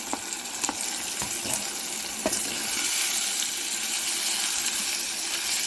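Green chillies and ginger-garlic paste fry in hot oil, giving a steady bright sizzle throughout, with a few soft clinks and stirring knocks as tomatoes go into the pan.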